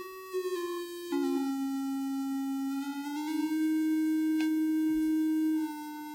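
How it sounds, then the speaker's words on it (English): A square wave tone with a clarinet-like, hollow buzz holds a steady pitch, dropping once early then sliding slightly back up, clean and sustained with no voices. "Here is a square wave."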